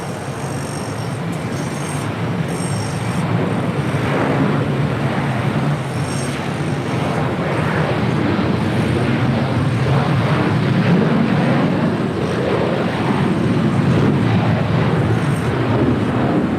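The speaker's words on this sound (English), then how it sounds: "Next departure here on the south side, Delta Airlines Flight 615, heading to Cancun, Mexico, 737-900ER" Steady, loud jet roar from a Delta Boeing 737-900ER departing LAX on the south side, bound for Cancun, a broad continuous rumble that holds strong throughout.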